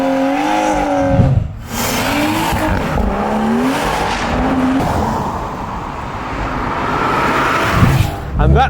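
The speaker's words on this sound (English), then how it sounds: "the M3 does sound nice and goes nice, handles nice. It's a nice sound." BMW F80 M3 Competition engine revving up and down with a strong, near exhaust note that rises and falls, and voices talking over parts of it.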